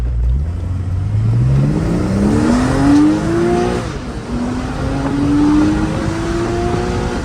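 A Porsche in Sport Plus mode accelerates hard, its loud engine note climbing steeply through quick upshifts, with two rising sweeps split by a sharp gear change and a brief drop in revs.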